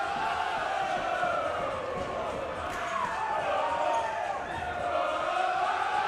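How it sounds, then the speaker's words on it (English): A home crowd roars in a packed gym at the Hutton Sports Center during a late timeout in the Chapman vs Redlands men's SCIAC basketball final. The noise is a loud, sustained wall of cheering and chanting voices for the whole stretch. "The crowd is on fire at the Hutton Sports Center tonight"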